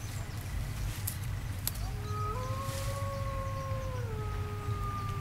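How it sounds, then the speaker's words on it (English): A smartphone notification sound of a wolf howling: a synthetic howling tone rises and holds in long wavering notes over a low steady hum. "Every time I get a message or something, I hear a wolf howling."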